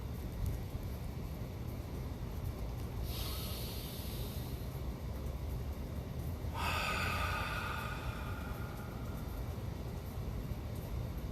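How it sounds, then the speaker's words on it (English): Slow, deep breaths during a qigong breathing exercise, a long airy inhale followed by a longer exhale, close and soft over a steady low background hum. "So inhale, exhale"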